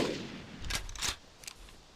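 Sniper rifle shots in the hunting game Carnivores Legacy, two or three sharp cracks spaced a fraction of a second apart, fairly quiet and alone.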